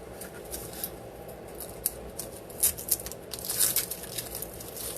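Dry onion skin crackles and rustles as it is peeled by hand in a home kitchen, with faint papery crinkles and small snaps over a quiet background hum.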